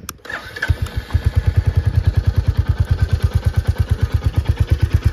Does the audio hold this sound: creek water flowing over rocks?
no